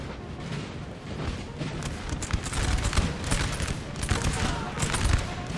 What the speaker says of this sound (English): Artillery is going to get some nice shots on this Russia